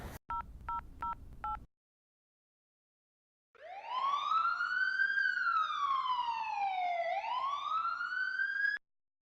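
A loud wailing siren rises and falls in long slow sweeps after a short burst of telephone keypad tones and a brief silence.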